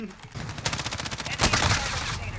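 Rapid automatic gunfire in Call of Duty: Modern Warfare, a dense burst of repeated shots with a louder blast partway through, close and sharp, while a voice talks over it.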